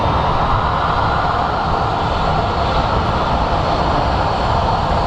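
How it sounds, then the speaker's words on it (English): An American Airlines Airbus A319 departs from Phoenix Sky Harbor airport with a loud, sustained roar of jet engines and broad rumbling noise, steady and unbroken throughout, with no talk over it. "we're going to have an American Airlines A319 that's headed to St."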